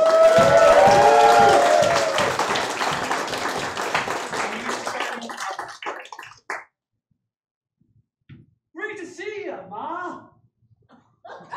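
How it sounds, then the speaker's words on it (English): Audience applause at an improv comedy show: dense clapping and cheering for several seconds that fades out, followed by a pause and a burst of voices. "Now's a good time to give them a round of applause."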